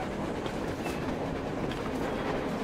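A train rolls past on the surface in the video game Metro Exodus, a steady, loud rumble of rail noise with faint clickety-clack, heard alone and without talk.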